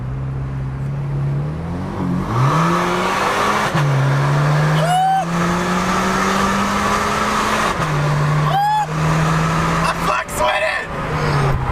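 A Cadillac ATS 2.0t engine with its muffler deleted drones and revs with a raspy, unmuffled tone, rising and falling through several pulls up to the rev limiter, with brief voices in between.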